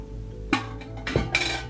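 A stainless steel ham cooker pot and its accessories are handled, giving a few sharp metallic clanks and clinks spaced over under two seconds against a low background hum.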